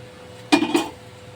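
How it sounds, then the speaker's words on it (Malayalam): A metal cooking pot is set down on a stove with two quick clanking knocks, close and clear, in a quiet kitchen. "ചട്ടി അടുപ്പത്ത് വെച്ച്"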